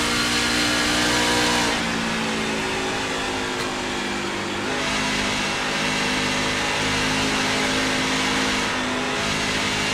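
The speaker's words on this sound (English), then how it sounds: "I want to listen to his throttle here going into the corner." A race truck engine in the Outcast Truck Series at Auto Club drones loudly and steadily, its pitch shifting as the throttle lifts and comes back on into a corner, with no talk.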